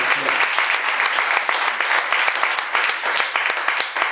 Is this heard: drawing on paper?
no